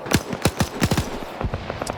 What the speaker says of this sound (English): Only to get MG42'd in the ass by Rodrig.